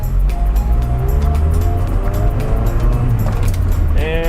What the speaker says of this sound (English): So I'm accelerating forward.